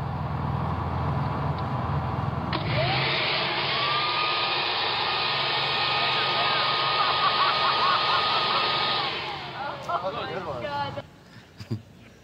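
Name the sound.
giant leaf blower running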